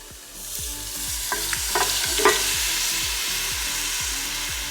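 Flour and diced tomatoes are stirred in a soup pot with a steady rhythmic scraping, repeated stroke after stroke, over a soft background sizzle, close and fairly loud, with no talk.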